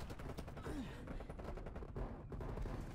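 Groza assault rifle firing in the multiplayer shooter Black Ops Cold War: dense, continuous automatic bursts with rapid cracking shots, loud and close throughout, with no talking over the gunfire.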